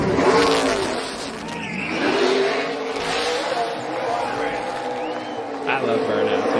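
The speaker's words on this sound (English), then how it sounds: "I love burnouts. Burnouts are just cool." A NASCAR race car at Phoenix doing a burnout, its engine revving hard and tires spinning with a sustained roar and squeal, while commentators talk over it.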